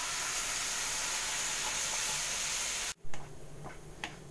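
Tomato puree with spices hissing and sizzling loudly in a pan for tomato chutney, a steady bright sizzle that cuts off abruptly and then returns quieter with a few faint ticks and crackles.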